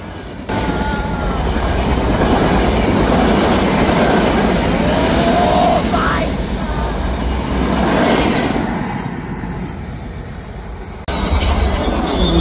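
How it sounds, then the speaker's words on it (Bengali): A train rushes past close by on a railway line, a loud sustained roar with rumbling wheels and clatter that swells, holds, then thins out as it moves away. "ফাইনালি অনেকক্ষণ পরে ট্রেনটা চলে আসছে। আমার সামনে এখন ট্রেন আসতেছে।"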